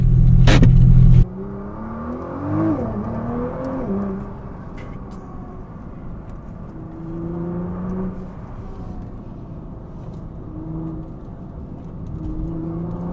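A Nissan GT-R Nismo accelerates on an open road: a loud burst at the start drops to a steady engine drone with rising and falling revs and wind noise inside the car, and no one talks.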